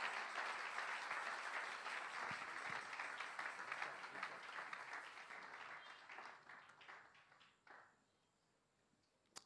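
A church congregation applauds loudly and steadily as a pastor steps forward, the dense clapping with cheers fading toward the end into near quiet.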